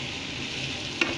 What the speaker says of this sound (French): Je vais verser mes crevettes dans mes poireaux. Je vais tout mélanger.